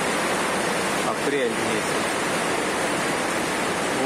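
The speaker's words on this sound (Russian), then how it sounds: "Течет все в квартиру." Water leaking through a worn roof pours steadily into an apartment, a loud, continuous broadband rush like a stream or waterfall, with a person speaking briefly over it.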